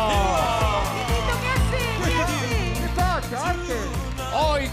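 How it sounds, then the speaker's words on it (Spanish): Studio audience at an Argentine television show applauding a guest's entrance, a loud continuous crowd roar of clapping and cheering under energetic music with a host's voice over it. "Fuerte el aplauso"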